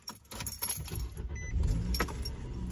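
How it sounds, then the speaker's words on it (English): Car keys jangling as someone settles into a car, followed by the engine being started and a low running rumble, close and clear with no talking. "I'm getting in the car right now and I'm gonna like heat it up."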